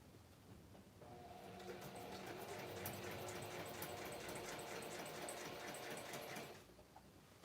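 A sewing machine runs in one steady stretch of stitching across a piece of scrap fabric during a craft session. The motor hums evenly for about five seconds, then stops.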